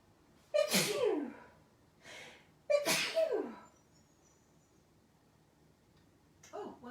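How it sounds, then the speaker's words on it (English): Two sharp, forceful sneezes burst out one after another with a short pause between, close and loud, trailed by a faint breathy sound at the end. "I'm going to sneeze now"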